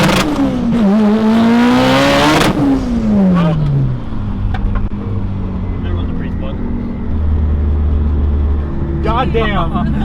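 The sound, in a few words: 1000 hp Mitsubishi Evo 9 car accelerating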